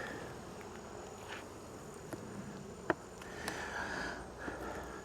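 Honey bees buzz around a healthy hive in early September, a faint, continuous insect hum with a few soft clicks and brief louder passes close by.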